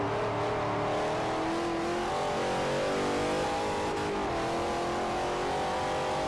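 A supercharged Jaguar race car from Forza Motorsport 4, rated at 708 horsepower, revs loud and steady with a whining engine pitch that climbs and sags over several seconds, with no talk over it.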